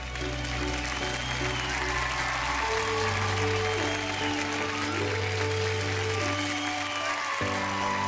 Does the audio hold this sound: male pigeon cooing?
no